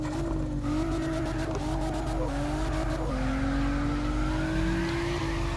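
A Nissan R34 GT-R drifts in the CarX racing game, its engine droning steadily with rising revs while tire squeal layers over it for the whole stretch, loud and close with no talk.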